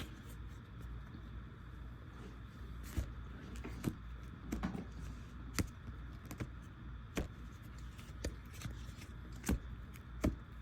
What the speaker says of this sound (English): Let me try to do a little makeshift shuffle since I'm holding my phone